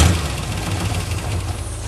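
An old carbon-fouled car engine idles close by, a steady low rumble with a faint rhythmic pulse holding even for the whole stretch, no voices over it.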